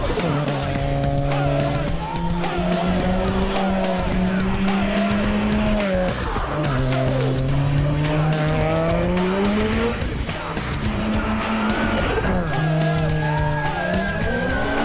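Mazda RX-7 sports car driving hard on a race track, its engine loud and steady as it climbs and drops through repeated gear changes, with tires squealing through corners and no talk.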